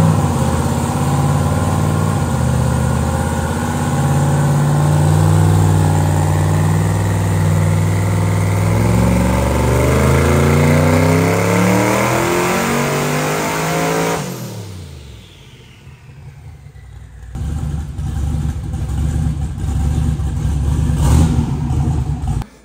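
A twin-turbo LS-powered Camaro on a dyno at low boost roars loud and close through a long sustained pull, rising in pitch, then drops abruptly and settles into a rough, lumpy idle.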